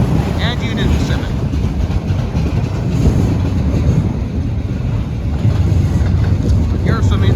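A CN eastbound manifest freight train led by an ET44AC locomotive rolls past Mission City station with intermodal containers, a loud, continuous low rumble and clatter with wind buffeting the microphone the whole time.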